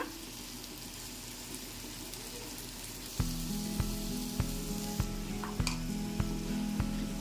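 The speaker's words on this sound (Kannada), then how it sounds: "ಈ ರೀತಿಯಾಗಿಟ್ಟು ಇದನ್ನೆಲ್ಲ ಶಾಲೋ ಫ್ರೈ ಮಾಡ್ಕೊತೀನಿ" Paneer shallow frying in a pan: a dense, steady sizzle with a faint rain-like crackle, then a louder stretch with a regular thumping rhythm and occasional clicks beneath the hiss, with no talk.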